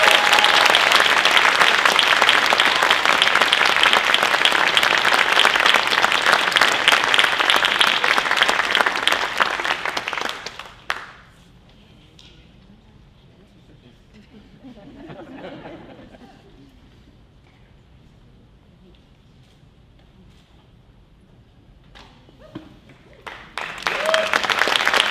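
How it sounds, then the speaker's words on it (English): Loud, dense audience applause at a school fellowship recital fills the first ten seconds, then fades to quiet murmurs and a short spoken stretch before clapping swells up again at the end. "let's give them another round of applause"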